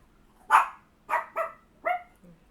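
Dogs barking in front of the house, four sharp close barks in an uneven burst followed by a faint low whimper.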